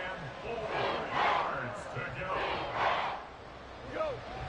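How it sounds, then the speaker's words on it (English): Stadium crowd at Arrowhead roaring in swelling, rolling waves during a Madden NFL football video game, steady and distant-sounding under a play-by-play commentator's voice. "The Arrowhead crowd in full roar."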